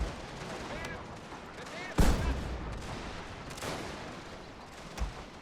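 Cannon fire in a strategy video game: a sharp, sudden boom lands near the middle and decays into a rolling rumble, with a second, softer report shortly after and faint battle clatter around it.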